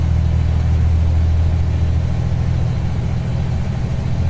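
Kenworth W900 truck engine from a sound pack in American Truck Simulator, a loud, deep, steady low rumble like idling or cruising, continuous and unaccompanied by talk.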